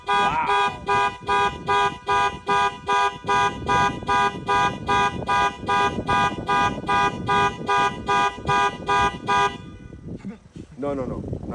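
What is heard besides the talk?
2021 Range Rover Sport car alarm sounding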